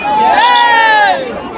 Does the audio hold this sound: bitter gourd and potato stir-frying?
no